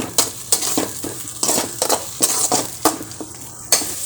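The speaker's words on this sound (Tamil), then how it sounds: "சென்னாக்குனியை இதிலே போட்டுடலாம் இது கொஞ்சம் வதங்கட்டும்" Chennakuni (small dried shrimp) sautéing in a pan, with repeated scraping stirs of a spoon against the metal over a steady sizzle, close and fairly loud, about a dozen strokes in an uneven rhythm.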